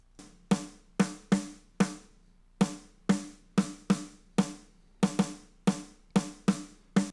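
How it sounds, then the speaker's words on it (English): Dry snare drum hits played alone in an uneven pattern, each a sharp crack with a short rattling decay, close and fairly loud. "with our sends off, our snare sounds like this"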